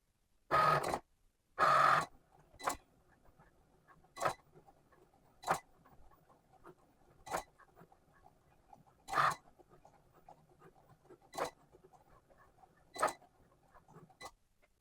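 A Cricut Explore 3 cutting machine makes a second cutting pass through smart vinyl, giving a string of short, sharp mechanical bursts spaced a second or two apart over a quiet motor hum. The first two bursts are louder and longer.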